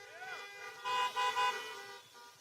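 Car horns honk in short repeated toots at an outdoor drive-in political rally in Phoenix, Arizona, several overlapping blasts rising over a speaker's voice at a microphone.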